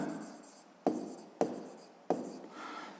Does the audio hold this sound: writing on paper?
yes